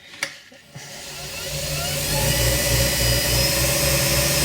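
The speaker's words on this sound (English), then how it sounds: "So I have the lathe spinning quite fast for this." A wood lathe spins fast while a pen blank is sanded, building into a steady, loud whirring drone with a constant hum and broadband hiss, after a couple of brief knocks at the start.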